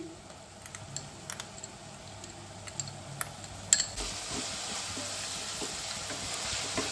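Chopped onion, ginger, garlic and green chili fry in oil for prawn chops, making a soft, low sizzle broken by scattered light clicks and taps of stirring.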